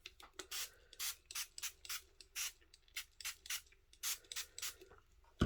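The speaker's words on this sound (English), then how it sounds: "Right, let's spray that again." Repeated short hissing sprays from a spray bottle, about a dozen quick bursts in an uneven rhythm, close and fairly quiet with no talking.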